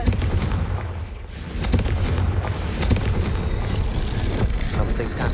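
A Confringo blast spell goes off in Hogwarts Legacy, a dense, booming burst of fiery rumble that swells loudly and holds steady for several seconds amid crackling game noise.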